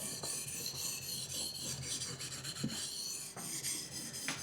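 A knife blade scrapes rhythmically back and forth across a wet 1200-grit Japanese water stone, a steady gritty rasping, close and fairly quiet.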